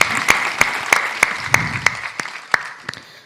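A few scattered, sharp hand claps ring out one by one at a Hindi kavi sammelan poetry gathering in Mandideep, about ten distinct claps spaced roughly evenly and fading toward the end, with no voices.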